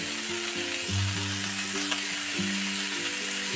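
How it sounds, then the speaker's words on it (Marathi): Tomato and spice masala sizzling and frying steadily in a pan for a Marathi green-chilli thecha, a continuous close crackle with soft stirring scrapes, no voices. "आता हा टाकलेला सर्व मसाला 3 ते 4 मिनिटं फ्राय करून घ्यायचा"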